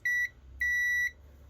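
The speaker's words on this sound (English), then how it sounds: "if we go to the short tester one to test for shorts, so when you connect it you get a beep, right?" Two clean electronic beeps from a short-circuit tester as its probes touch, the first brief and the second longer, close and clear over a quiet background.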